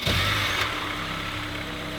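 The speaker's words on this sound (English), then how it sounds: "This is the heart of this car. Smooth, 4-cylinder. The engine's quiet, but it makes a decent sound." Smooth Honda four-cylinder car engine running steadily at idle, a quiet even hum with a faint mechanical whine close by, a slight rev swell at the start then settling, no voices.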